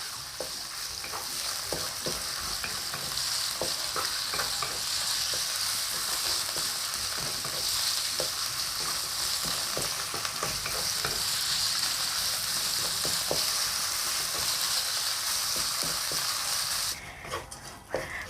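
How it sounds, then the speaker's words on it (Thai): Pork belly pieces frying in a pan for a Thai green peppercorn chili paste, a steady loud sizzle with crackling pops and occasional stirring clatter throughout, no talking. "แล้วก็เทหมูสามชั้นลงไปค่ะ เราจะเจียวนะคะ หมูสามชั้นนะคะ ให้เหลืองหอมก่อนเลยนะคะ เราจะเจียวให้สุกนะคะ"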